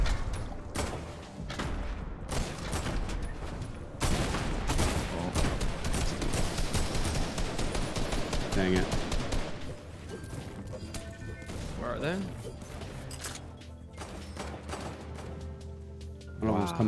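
Video game gunfire in a battle royale match, dense bursts of shots and crashes running almost continuously, with a player talking over them.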